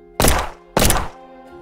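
Two loud, sharp gunshots from a pistol, spaced about half a second apart, each a heavy booming burst with a short decaying tail, in a crime documentary reenactment.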